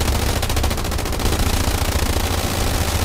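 Sustained machine gun fire in a video game battle, a loud, close, continuous stream of rapid rounds that runs unbroken for the whole stretch, with no voices over it.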